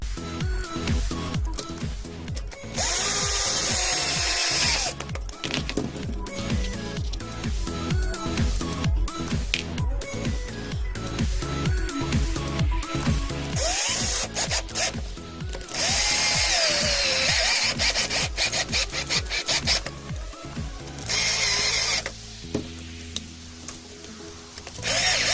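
A power driver sets 2mm headed screws into a Vaterra Halix RC bumper brace in repeated short whirring bursts with ratcheting clicks between them, close and alone.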